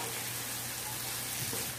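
Tempeh orek sizzles steadily in a hot frying pan while being stirred, a continuous close crackle and hiss with no voices.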